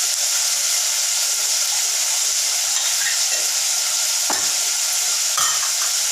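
Onions and food with turmeric frying in a pan, a steady loud sizzle and hiss throughout with a few scraping stirs of a spoon near the end.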